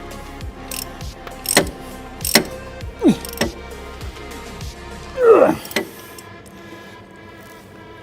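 Socket wrench ratchets on nuts inside the engine bay of a Volvo V50, a series of close clicking bursts at irregular intervals, with a louder metallic scrape midway and quieter workshop background after.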